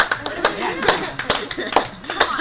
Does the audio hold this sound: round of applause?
yes